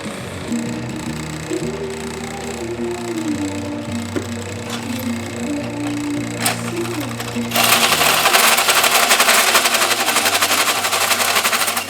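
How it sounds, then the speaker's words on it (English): A Harbor Freight drill press runs with a steady motor hum, then a loud grinding, whining bit cuts through a metal roll cage gusset, growing harsher in the final seconds. "And I just use the good old Harbor Freight drill press."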